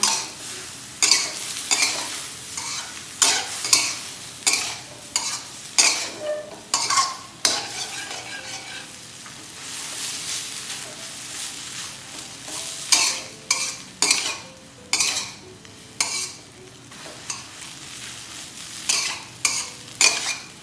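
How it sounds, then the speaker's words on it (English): Rice noodles stir-fried in a pan for pad thai, with rhythmic scraping strokes of a utensil against the metal every second or so over a steady sizzle, close and fairly loud, no talking. "this one we will fry until the noodles soft and then dry"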